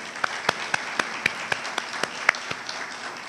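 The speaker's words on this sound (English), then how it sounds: "Let's give them a round of applause." Applause at a conference center groundbreaking brunch, with scattered individual claps standing out sharply over a softer wash of clapping, moderately loud and fairly close.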